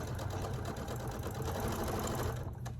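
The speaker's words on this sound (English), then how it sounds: "I'm going to start sewing from that point" A sewing machine stitches a fabric neck pillow in a fast, even, continuous chatter of needle strokes, close and steady, slowing and stopping just at the end.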